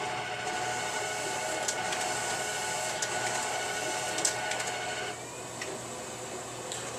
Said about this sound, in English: when I say start, it's going to take all three sheets and feed it into the machine